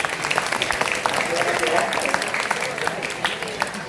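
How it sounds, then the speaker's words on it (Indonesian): An audience at a religious gathering claps in a dense, steady burst of applause for several seconds, with voices and speech mixed in underneath. "tepuk tangan dulu."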